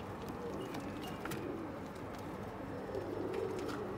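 Pigeons in a loft coo softly now and then under a constant noisy background, with faint chirps mixed in, moderately close.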